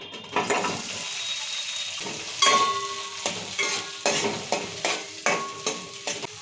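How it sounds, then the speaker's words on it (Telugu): Onions frying in oil on a stove for a tomato curry, with a continuous sizzle and repeated spoon scrapes and stirs against the pan, loud and close with no talk. "ఇక కొంచెం నూనె వేసుకుందాం ఉల్లిగడ్డలు వేసుకుందాం"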